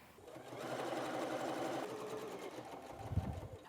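Sewing machine stitching a binding strip onto a tote bag, a steady close whir running for about three seconds before stopping with a low thump.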